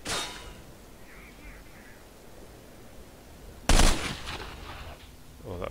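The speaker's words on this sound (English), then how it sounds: "Got no idea who's shooting at me from where." Gunfire in the STALKER game mod, one sharp loud shot after a long quiet stretch with faint clatter at the start and some trailing noise afterward.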